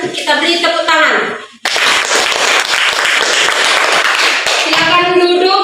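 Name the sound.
applause from the audience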